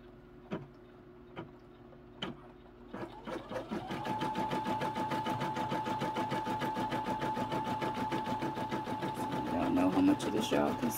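An embroidery machine stitches a letter onto a baseball hat: a few separate thumps, then a steady, rapid mechanical rattle with a whirring tone that grows slightly louder toward the end.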